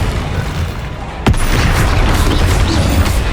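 In Hogwarts Legacy, the Confringo fire spell bursts into a single sharp, loud boom that crackles and rumbles on over continuous game-world noise.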